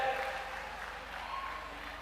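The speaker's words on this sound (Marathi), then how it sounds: "सनीसाठी सगळ्यांनी हात वर करून जोरात टाळ्या वाजवायच्या" An audience gathered at a large public health camp event gives soft, distant applause: a smooth, steady wash of clapping that is heard faintly throughout.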